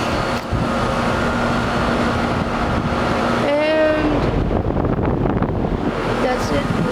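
Trane XR13 heat pump outdoor units run outdoors, a steady broadband fan whoosh and hum mixed with wind noise, while a person talks over it.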